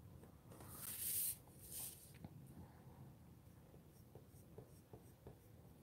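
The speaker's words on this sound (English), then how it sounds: "Just going over it with the white pencil." A white Prismacolor colored pencil outlines a deer antler drawing on paper, giving a steady, close, soft scratchy scraping with a couple of brighter strokes near the start, alone and without talk.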